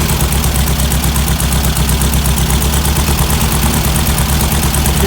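A classic Volkswagen Beetle engine with dual carburetors out of sync idles loudly and close, a steady throbbing rumble with a slightly uneven pulse and no talk.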